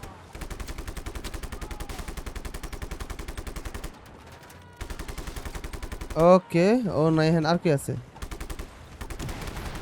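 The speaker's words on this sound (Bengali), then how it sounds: "চাক্কার মধ্যে গুলি কর" Rapid, evenly spaced automatic gunfire in a video game rattles on and off, with a short burst of talking in the middle.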